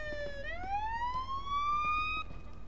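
Police car siren in the video game Police Simulator, a loud rising electronic wail sweeping upward and holding a high tone, heard alone over a faint background hum.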